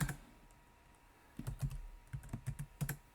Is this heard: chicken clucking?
no